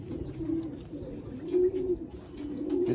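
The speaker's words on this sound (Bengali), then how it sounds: "অন্ধার পায়রা এগুলো, এগুলো আন্দ্রা" Pigeons in a loft of racing birds coo in repeated low, throaty phrases, close and steady, with faint rustling and background noise around them.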